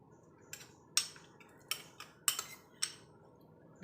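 A spoon scrapes and clinks against a bowl while pomegranate and mango are stirred into fruit custard, giving a handful of sharp, irregular metallic taps with quiet pauses between them and no voices.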